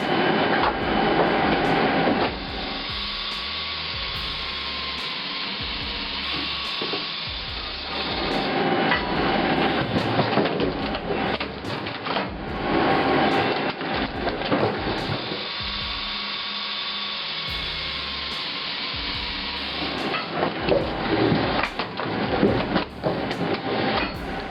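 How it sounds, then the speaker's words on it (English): A homemade automatic firewood processor clanks and thumps while splitting logs, running in heavy mechanical cycles with repeated metallic knocks and a steady machine roar. "Imagine splitting logs effortlessly with a single stroke of the axe-like blades."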